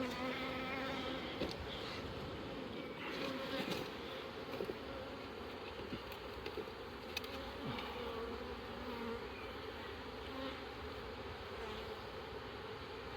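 Honey bees from a strong double nuc colony being moved into a hive hum in a dense, steady, close buzz that continues without a break.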